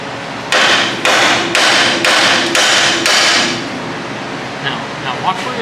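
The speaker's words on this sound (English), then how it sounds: "I need to get my hammer and a couple other things" A hammer strikes metal six times in an even rhythm, loud and close, while a car is being taken apart, followed by quieter clinks and handling noises.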